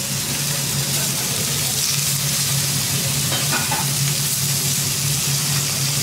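S'musauer stuebel frying in a pan, a steady close sizzle with a constant bubbling crackle throughout and no talk over it.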